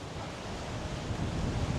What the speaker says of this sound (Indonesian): Ini suasana pantainya seperti ini